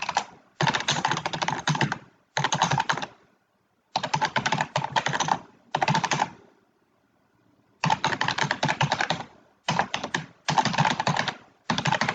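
Fingers type on a computer keyboard in fast, dense bursts of clicking, broken by short pauses, close and clear with no one talking.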